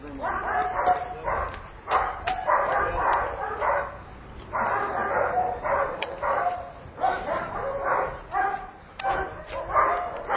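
A dog barks repeatedly in bursts during obedience training with a handler at a canine training center in Mukachevo, the barking fairly close and loud with short pauses between volleys, over outdoor background noise.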